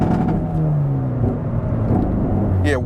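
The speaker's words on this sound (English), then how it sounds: "wide open throttle sounds 10 times better than like that low speed driving where it's like just so drony and raspy" A tuned Hyundai Veloster N with DCT gearbox and N75 stage 2 tune pulls at wide open throttle, its engine and exhaust giving a loud, steady rising drone up close, ending in a quick whooshing shift.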